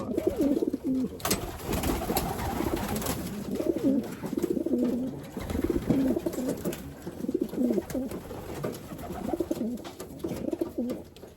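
Racing pigeons coo repeatedly in low, rolling calls, several birds close by, with rustling and flutters mixed in and no talking.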